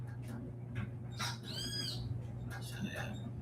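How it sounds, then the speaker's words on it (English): Outdoor birds call faintly in a few brief, chirping bursts over a steady low hum from a clothes dryer running nearby, with a muffled voice in the background. "there's fucking birds out here"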